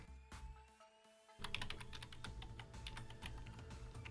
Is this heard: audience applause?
no